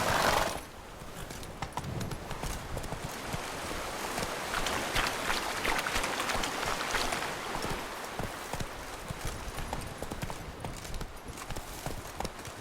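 Roach, the horse in The Witcher 3, gallops with steady rapid hoofbeats, close and fairly loud, under a constant wash of ambient game noise for the whole stretch.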